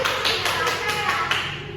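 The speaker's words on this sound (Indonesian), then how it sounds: "Tepuk tangan dulu dong buat kelompok 1" A small classroom group claps for fellow students, a light rhythmic patter of hands repeating several times over a low murmur.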